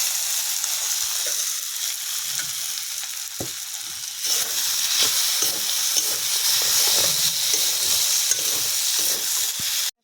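Dried fish hits hot oil seasoned with chili powder in a pan. A constant close sizzle and hiss swells louder partway through, with occasional clinks of stirring and no talking.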